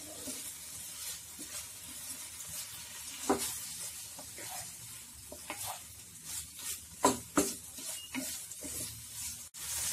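Mutton in yogurt sautéed over a high flame for a black pepper mutton fry, giving a steady loud sizzle with repeated stirring scrapes and clinks throughout, no talk.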